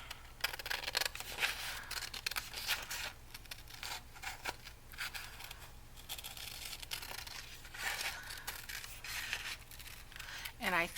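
Scissors cutting and trimming paper for a handmade soft-spine journal, a series of close, soft snips and rustles with light handling noise, fairly quiet.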